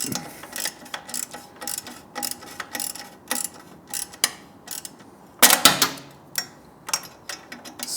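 A ball-end Allen key tightens an exhaust bolt on a Triumph Speed Twin 1200 during an X-pipe install, producing a string of close, sharp metallic ticks and clicks at an uneven rhythm, with a louder cluster of rattling clicks near the end.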